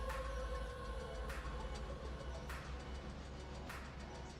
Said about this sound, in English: A lot of Queen Coal cars today.